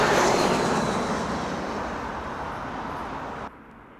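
A passenger plane lands on Heathrow Airport's northern runway, heard from the runway end as a loud broad engine roar that fades gradually and then drops off abruptly.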